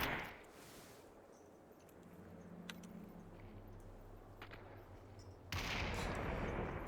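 FAL rifle shots ring out in Population ONE, a few sharp cracks spaced apart, fairly faint at first, then a louder noisy burst near the end.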